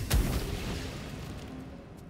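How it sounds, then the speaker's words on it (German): An exploding mushroom in the video game Baldur's Gate 3 goes off in one short, punchy boom, followed by a quiet fading rumble. "Das sind doch aber solche Scheißpilze, die explodieren,"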